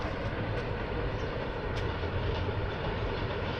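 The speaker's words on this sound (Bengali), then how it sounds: "একটা মালগাড়ি যাচ্ছে" A freight train rolls past below a hilltop temple at Ghatshila, Jharkhand, a continuous rumbling roar of wagons holding steady throughout with no voices.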